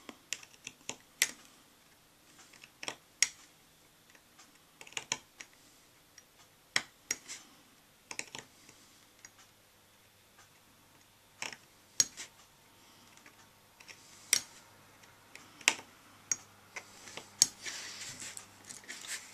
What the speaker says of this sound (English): then you come back with the knife and just work the material out in a V